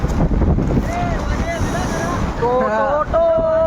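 Floodwater from an overflowing river rushes through a flooded village and into shops, a steady loud roaring wash with wind buffeting the microphone, while a person talks over it throughout.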